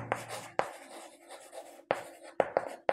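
A pen writes an answer on paper during a math lesson, scratchy strokes broken by several sharp taps and scrapes, close and clear with a faint voice underneath.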